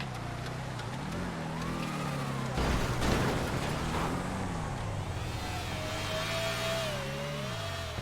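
A car engine in the video game GTA FiveM races with rising and falling pitch, revving continuously and loudly throughout, with a brief burst of harsher noise partway through.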